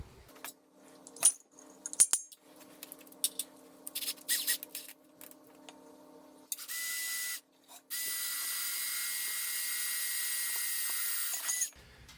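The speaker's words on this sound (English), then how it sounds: "use our stepping bit, and drill our 3 holes for our 1/4 inch MPT fittings" Scattered clinks and handling noises give way to a high-pitched power drill whining as a step drill bit bores holes for 1/4 inch fittings, first in a short burst and then in a long steady run.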